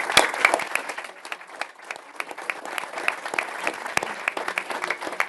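An audience applauds after a policy speech at the Centre for Social Justice, steady clapping with sharp individual claps standing out, moderately loud, dipping slightly midway before continuing.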